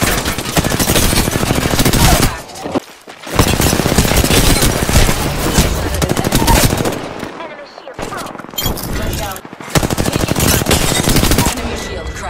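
Rapid automatic gunfire from the Apex Legends battle royale game rattles loud and dense in long bursts, broken by short pauses, with game voice lines mixed in.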